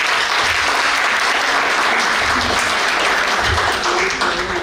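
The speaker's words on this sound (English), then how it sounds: "let's have a huge round of applause for each one" A large audience at an award ceremony applauds steadily and loudly throughout, a dense wash of many hands clapping with no pauses and faint murmuring beneath.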